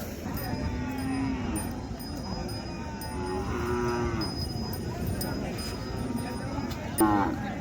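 Khillar cattle low repeatedly at a crowded cattle market in Sangola, with several drawn-out moos rising over a steady murmur of voices and livestock bustle, and a sharper call near the end.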